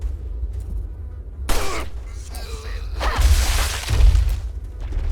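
Several booming shotgun blasts in The Rochefort Adventures video game, loud and close, arriving in irregular bursts over a low rumbling background.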